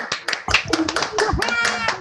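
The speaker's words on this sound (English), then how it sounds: "giving him a round of applause" Applause from an online meeting audience at a peer recognition ceremony, with scattered claps and taps over lively cheering voices.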